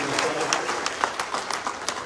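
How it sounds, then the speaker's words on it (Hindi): Audience at a national seminar applauds with brisk, scattered clapping, individual claps standing out in quick succession, with voices mixed in. "जोरदार ताली के साथ"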